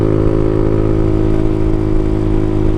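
Carbureted motorcycle engine holding a steady constant rev, a loud even drone with a smooth, unbroken throb close by.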